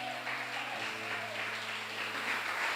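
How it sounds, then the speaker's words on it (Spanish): Applause from a church congregation, a steady, fairly soft wash of clapping filling the room, with a low hum underneath. "Denle un aplauso al Señor en esta hora."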